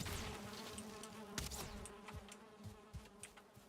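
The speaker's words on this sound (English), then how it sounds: "Oh, I hear bees, right? Is that what I hear? Yeah, they're there." Bees buzz in the survival video game Valheim, a faint continuous insect drone with a few soft clicks and thumps from gameplay mixed in.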